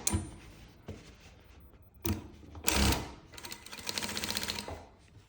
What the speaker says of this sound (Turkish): Buradan dikiş payım mesafesinde makinasını çekiyorum.